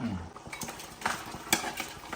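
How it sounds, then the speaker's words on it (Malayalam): A spoon stirs broiler chicken curry in a pan, giving close, irregular scraping clicks and taps over a low steady sizzle, with no voices. "നന്നായിട്ട് മിക്സ് ചെയ്യുന്നു"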